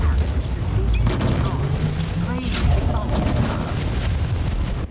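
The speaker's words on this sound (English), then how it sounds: "Let's then bring down the fuel tank." A fuel tank blown up in the Warhammer 40,000: Inquisitor video game, giving loud booming blasts and rumbling debris amid steady battle noise for several seconds.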